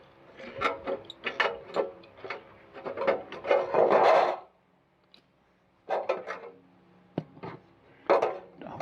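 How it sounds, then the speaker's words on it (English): Attic ventilation material being trimmed and cut at the edges, with bursts of rough rasping and rubbing strokes, a dense run of cutting through the first four seconds, a pause, then more short cuts close by. "I'll go ahead and trim that out, cut off the edges that I don't need or that are in the way"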